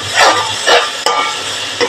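Spices stirred into a frying chicken curry base in a pan, with a steady sizzle and a few soft scraping strokes of a spoon recurring in a loose rhythm, close and fairly loud.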